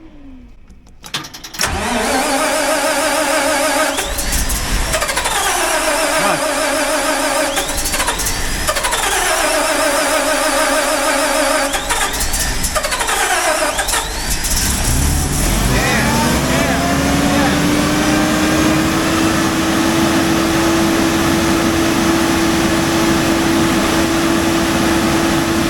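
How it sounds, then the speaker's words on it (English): A faulty generator cranks over several times with repeated whirring, rising starter bursts, then catches and settles into a loud, steady engine drone that runs on close by. "I'm going to give it a crank and hope for the best"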